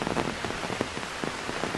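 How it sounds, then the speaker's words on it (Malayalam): Rain falls steadily on an outdoor farm plot near a forest damaged by wild elephants, a dense even patter with scattered heavier drops close to the recorder and no voices. "മഴ ആയതുകൊണ്ട് ശബ്ദത്തിന് ചെറിയ പ്രശ്നം ഉണ്ടാവും"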